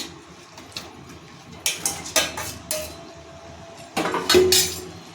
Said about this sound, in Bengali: এরপর দিয়ে দিচ্ছি ভেজে রাখা লোটে মাছ